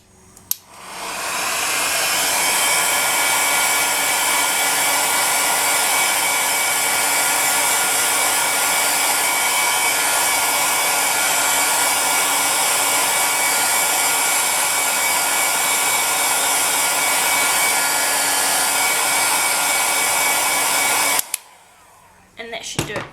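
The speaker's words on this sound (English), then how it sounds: "gently warm up the surface of the clay using your hairdryer too" A steady, loud hair dryer blows continuously at close range, warming polymer clay, then cuts off near the end, leaving a few faint handling sounds.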